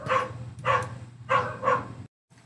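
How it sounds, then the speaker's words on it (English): A dog barks indoors, four loud close barks in two pairs followed by a brief silence and then a softer sound. "Ang ingay ng dog namin, I'm so sorry."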